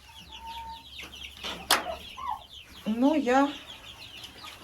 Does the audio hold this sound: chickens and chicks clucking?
yes